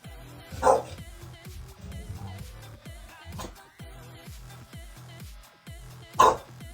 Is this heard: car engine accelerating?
no